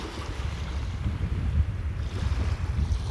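Soft, continuous flowing water for a meditation, a steady low wash like gentle waves, calm and even with no voices.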